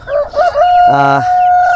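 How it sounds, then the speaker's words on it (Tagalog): A rooster on a small farm crows once with a clear, rising call that holds steady and then trails off. It sounds close, and other fowl calls can be heard faintly in the background. "ito na nga yung mga tandang natin na pakalakihan nila"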